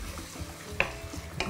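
A ladle of pasta cooking water goes into a frying pan with beaten yolks and cream for carbonara and is stirred, giving soft sizzling with a couple of sharp utensil clinks against the pan.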